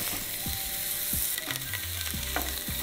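Bacon-wrapped kransky sausages fry in a hot pan, a dense steady sizzle and crackle with occasional scraping and clatter as they are moved, no talking.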